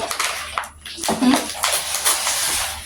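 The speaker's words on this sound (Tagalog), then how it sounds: "kumuha muna ng tubig si Ate Alodia" Water pours and splashes into a container for drinking, a continuous close hiss and trickle, with a voice talking over it.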